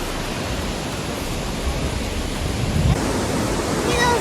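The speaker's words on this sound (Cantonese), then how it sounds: "呢個係我睇過最闊嘅瀑布，好壯觀啊！" Wide Burney Falls in Lassen National Park roars as a steady, loud, broadband wash of falling water, continuous and unbroken with no voices over it.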